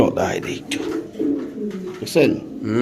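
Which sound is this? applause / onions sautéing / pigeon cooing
pigeon cooing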